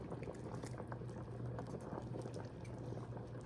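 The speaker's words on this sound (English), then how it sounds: "Been boiling for 5 minutes." Mushroom gravy for Salisbury steak boiling in a pan, a steady low bubbling and popping simmer, close but quiet, continuous and alone.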